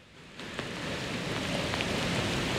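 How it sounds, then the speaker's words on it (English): Heavy storm rain falls in St. Johns County as a loud, dense, continuous hiss of drops striking surfaces nearby. It starts abruptly and holds steady, with no voices. "for the past hour, it has been rain, rain, and more rain"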